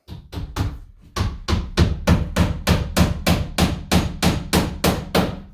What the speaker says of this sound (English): So I just kind of firmly hold it on there and throw a nail on it.